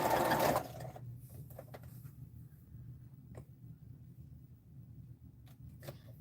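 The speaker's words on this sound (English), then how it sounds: "don't turn your sewing machine crank the wrong way" A hand-crank sewing machine stitches fabric for an arrowhead quilt block, a brief loud burst followed by soft, steady mechanical whirring and a few sharp clicks, with no talk.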